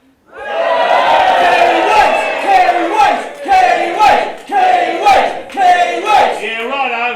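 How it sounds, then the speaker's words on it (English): Stadium crowd at a cricket match roaring and chanting wildly, a loud sustained mass of voices that swells in repeated rhythmic surges, near and dominant throughout. "the crowd are going ape shit"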